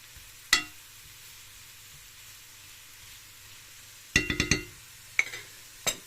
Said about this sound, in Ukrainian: І сюди висипаю отак по всьому цукор. І перемішую, знову перемішую.